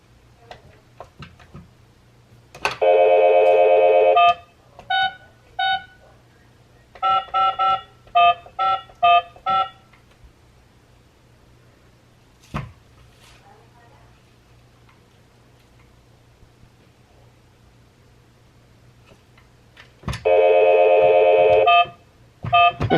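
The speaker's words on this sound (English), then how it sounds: "I need to dial this number." Phone keypad tones dialing a number in a home, several bursts of beeping key presses in clusters with quiet pauses between, a steady low hum underneath.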